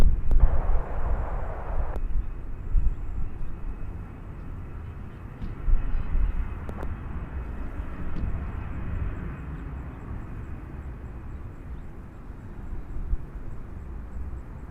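An aircraft arriving at Nashville International Airport in a light crosswind, heard as a broad, steady engine roar with low rumble that stays loud and continuous throughout, with no voices.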